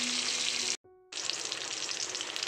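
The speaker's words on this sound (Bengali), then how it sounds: "আমাদের মাছটা ভাজা হয়ে গেছে" Fish frying in hot oil gives a bright, steady, close sizzle that cuts out briefly for a moment, then resumes just as strongly.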